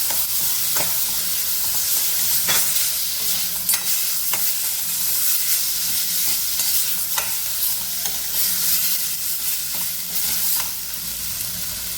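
Shrimp sizzle in hot oil in a pan, with a constant bright frying hiss and periodic scraping clicks of stirring, close and steady throughout with no talk.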